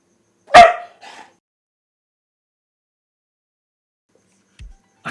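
Husky dog gives one sharp bark followed by a softer short yip, then silence, with a faint thump near the end.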